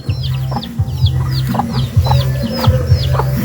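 Backyard pet chickens cluck close by in quick, repeated bursts over a steady farmyard murmur, with sharp higher chirps mixed in and no voices.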